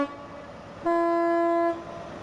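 A Cross Country HST train sounds a loud, sustained two-tone horn blast of about a second as it sets off from the platform, surrounded by steady station ambience and a low engine rumble.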